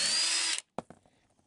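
Power tool spinning off a lug nut on the wheel of a 1987 Honda TRX250X ATV: a loud, high whirring burst that stops abruptly, followed by a few quiet clicks and clatters.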